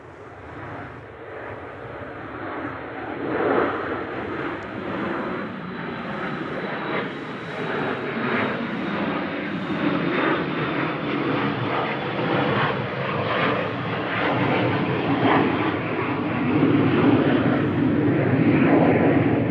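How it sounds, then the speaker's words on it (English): A Dassault Falcon 8X business jet rolling for takeoff at Manchester Airport, its engine roar building steadily and growing louder over the run, with a broad rushing noise and a thin high whine, no talk. "Yeah, it is rolling. It's the Dassault Falcon 8X"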